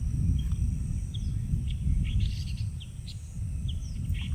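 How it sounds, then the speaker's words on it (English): Birds singing in the early morning on a farm, scattered chirps and short whistled calls at a distance, fairly faint over a steady low rumble of wind or background noise. "The birds are very loud in the morning."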